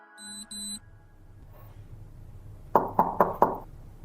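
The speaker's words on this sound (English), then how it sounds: "the officers went directly to his apartment and knocked on his door" Four firm knocks on an apartment door, heard from the hallway as police officers arrive, evenly spaced and loud, coming after a pair of short electronic beeps and faint rustling.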